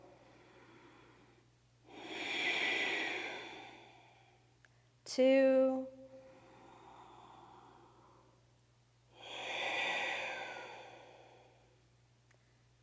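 Deep, audible ujjayi breaths in an Ashtanga yoga session, long airy inhales and exhales rising and falling slowly, with a voice briefly counting in between.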